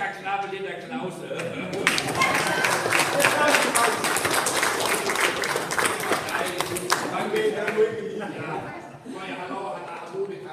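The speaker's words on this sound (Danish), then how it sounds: "Jeg synes, I skal klappe lidt af Clause" A party audience at a 60th birthday celebration claps together in a burst of dense, close applause that swells and then fades after several seconds, with voices talking and cheering around it.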